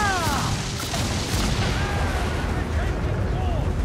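Ship cannons blasting in the Assassin's Creed IV Black Flag video game, dense booming artillery and crashing impacts over a constant loud roar, with a voice heard across it.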